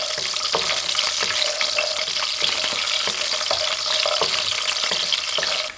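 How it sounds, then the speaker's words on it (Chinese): Seasonings stir-fried over low heat with a spatula, a steady dense sizzle with repeated scraping strokes of the spatula against the pan at a regular pace, close and fairly loud, with no talking. "全程开小火慢炒，用铲子不断的翻炒。"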